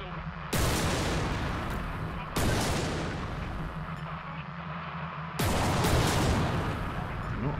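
A ship's heavy, slow-firing weapon in the space game EverSpace 2 goes off three times. Each shot is a loud, punchy blast with a long decaying tail, spaced a couple of seconds apart.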